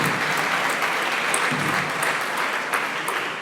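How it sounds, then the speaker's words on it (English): Clapping from an audience fills the Corn Exchange hall at a Cambridge hackathon's final demos, a dense, steady round of applause that holds for several seconds with a few brighter individual claps. "Let's have a big round of applause"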